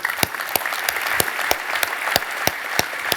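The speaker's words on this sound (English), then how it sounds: "please clap sincerely, because none of this would have been possible without the ecosystem" Applause from a keynote audience at DockerCon, with sparse, distinct hand claps landing at irregular intervals over a soft crowd murmur in a large hall.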